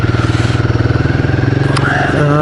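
A Royal Enfield Guerrilla 450 motorcycle with its 450 engine, steady thumping idle that pulses rhythmically, then revs as it pulls away in gear, close and loud.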